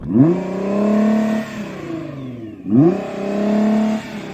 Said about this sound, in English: So I'm going to rev up this Nissan.